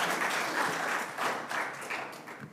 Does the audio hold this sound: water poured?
no